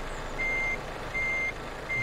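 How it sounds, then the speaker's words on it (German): A truck's reversing beeper in the Euro Truck Simulator 2 game sounds three steady, evenly spaced tones over a low engine rumble, with no one talking. "Den Piepser aus. Das nervt nur."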